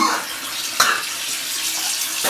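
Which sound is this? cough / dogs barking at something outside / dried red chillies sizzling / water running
water running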